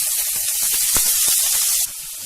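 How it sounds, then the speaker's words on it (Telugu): Chopped onions and green chillies frying in hot oil in a pan, a loud close sizzling hiss with brief crackles and pops, the hiss dropping slightly near the end, no voices. "నూనె వేడైన తర్వాత తరిగి పెట్టుకున్నటువంటి ఉల్లిపాయ ముక్కలు, పచ్చిమిరపకాయ ముక్కలను వేసుకుని వేయించుకోవాలి"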